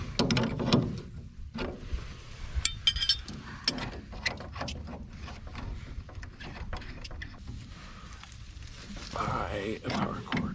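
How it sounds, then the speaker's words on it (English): Nuts are loosened from the motor of a wood-burning furnace, with scattered close metallic clicks, ratcheting and clanks between quieter pauses, and a person talking at times. "remove these nuts"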